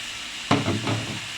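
Bitter gourd and potato bhaji tipped into a pan of hot masala, a sudden sizzling hiss that swells at once and then settles into softer, uneven frying crackle, close and alone.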